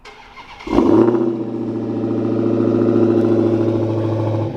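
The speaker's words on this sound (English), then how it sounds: "that dual exhaust, which we can take a listen to because this has remote start" A Dodge Challenger SRT Hellcat's big engine cranks and fires by remote start with a sharp roar through its dual exhaust, then settles into a loud, deep, rumbling idle that holds steady.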